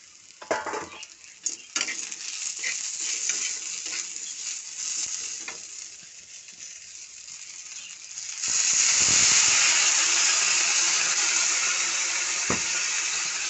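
Tomatoes frying with a few spices in a pan for jackfruit curry: scattered pops and stirring scrapes give way to a loud, steady hissing sizzle that fills the rest of the sound, close and without talk.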